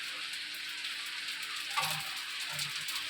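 Fuchka puris fry in hot oil with a steady, close crackling sizzle, broken by a couple of brief soft knocks, with no one talking.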